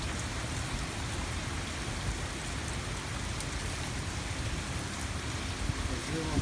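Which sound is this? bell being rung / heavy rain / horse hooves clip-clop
heavy rain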